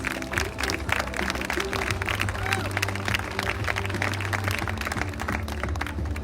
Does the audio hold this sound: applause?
yes